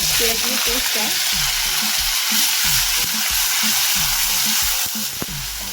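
Onion paste fries in hot spiced oil, producing a loud, continuous, dense sizzle with low scraping stirs repeating underneath throughout.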